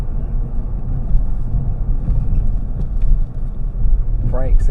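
A 2022 Kia Stinger GT with its exhaust valves open gives a deep, continuous rumble while driving, steady and fairly loud beneath someone talking.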